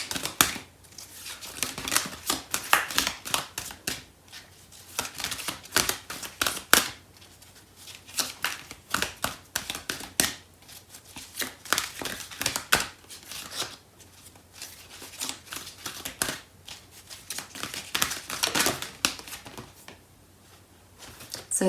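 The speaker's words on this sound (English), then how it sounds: "I'm going to pull out a card from the Fairy Tarot deck" Tarot cards from a Fairy Tarot deck shuffled and drawn by hand, a quick run of papery riffles and flicks that comes in bursts and pauses, close and fairly soft, with no talking.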